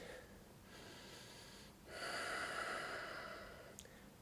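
During a yoga flow, a few slow breaths are drawn in and let out through the nose, soft and close, in a quiet room.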